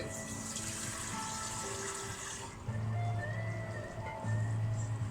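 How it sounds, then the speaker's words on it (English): Tap water running steadily into a cooking pot holding stock cube and Bovril, a continuous close splashing gush that shifts in tone partway through. "we're just going to add some water to this now"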